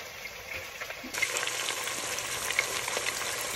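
Chicken pieces frying lightly in a pan before being cooked into adobo, a steady soft sizzle that grows brighter and louder partway through, with faint crackles and pops nearby.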